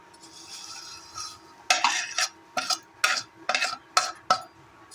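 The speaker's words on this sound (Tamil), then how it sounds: "சேமியாவை ஆட் பண்ணி நல்லா கலந்து விடுங்க" Vermicelli is stirred into boiling milk for payasam, a spoon scraping and clanking against the pot in a quick series of sharp, close strokes after a softer bubbling opening.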